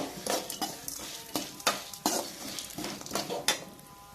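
Whole spices such as cinnamon, cloves, stone flower, bay leaf and poppy seeds stirred in hot oil for Chettinad chicken curry, with a light sizzle under repeated scrapes and clinks of a metal spoon against the pan.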